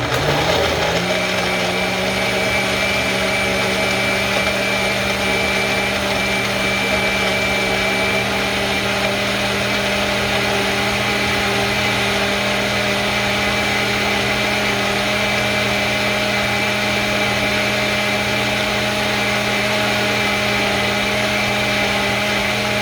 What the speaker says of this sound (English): So I'm not going to do more than about a 30-second blend on the liquefy setting.